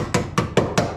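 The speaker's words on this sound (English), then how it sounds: "I took my little hammer right here and" Small hammer striking thin sheet metal on a 1971 VW Super Beetle restoration, four sharp evenly spaced metallic taps in about a second, close and loud with nothing else heard.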